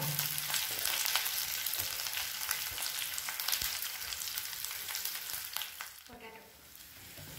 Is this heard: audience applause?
no